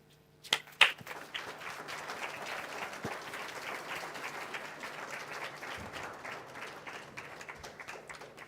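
Moderate, even applause from the audience at the South African Mathematics Foundation annual awards function as a grade 10 recipient from Red Hill High School is welcomed, opening with a few sharp knocks and continuing steadily at a distance.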